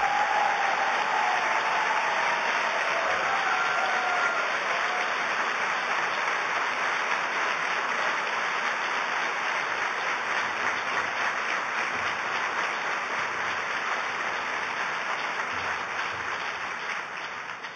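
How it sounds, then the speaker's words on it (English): A large audience at a presidential speech breaks into sustained, loud applause that holds steady for many seconds as a dense wash of clapping, tapering slightly toward the end, with no voices over it. "You applaud for a good man named Elijah"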